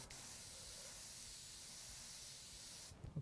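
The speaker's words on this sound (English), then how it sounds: "So what I'm doing is I will spray some of the edges" Paint sprays onto the edges of a fantasy painting in one steady, close hiss lasting about three seconds, then stops abruptly with a few small clicks.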